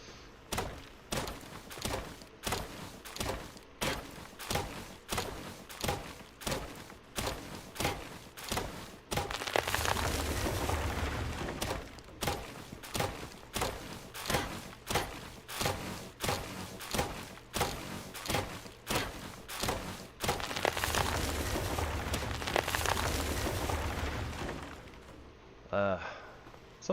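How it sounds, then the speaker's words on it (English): Trees being chopped and breaking down in the Palworld video game: a long, steady series of rhythmic cracking thuds, with two louder crunching, collapsing stretches, played close with no talk over it. "Something about that noise is very satisfying. About the tree, like, breaking down and stuff."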